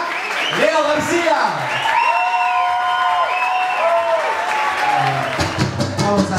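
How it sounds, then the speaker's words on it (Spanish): Live crowd at an evening show applauds and cheers for the musician, a steady wash of clapping under a loud, excited voice shouting over the noise throughout. "Quiero que le den un aplauso impresionante"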